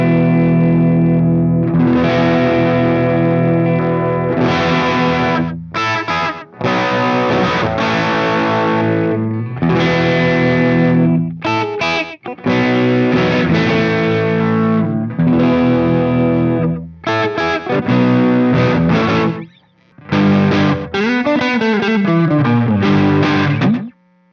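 Electric guitar, a Fender Player II Telecaster in E standard, played through high gain with a noise gate: loud, chunky distorted riffs in tight bursts, with sharp gated silences between phrases and a sliding bend near the end.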